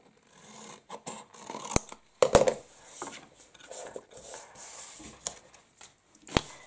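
Scissors snip and trim a cardstock flap on a handmade paper tealight box, a few sharp close cuts among soft paper rustling and handling noises.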